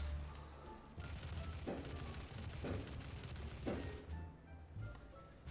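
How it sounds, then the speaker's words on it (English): Fourth of July fireworks pop and crackle outside in distant rapid bursts, with a few louder bangs rising above a steady background din. "Please excuse the fireworks."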